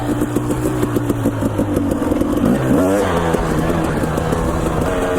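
Husqvarna TE250 dirt bike engine running steadily while being ridden, a continuous mid-pitched drone with shifting revs and a brief rise midway, loud and close throughout.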